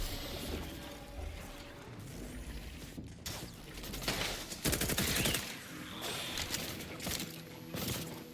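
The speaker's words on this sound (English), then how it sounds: "Have my sniper rifle up." Rapid gunfire in The Outer Worlds 2 combat, bursts of sharp repeated shots and clattering mechanical sounds, with one dense loud volley in the middle and scattered shots around it, fairly faint overall.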